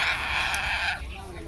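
Close, loud raspy screech from a yellow-naped Amazon parrot, a raptor-like dinosaur call sustained for about a second before cutting off into quieter room noise.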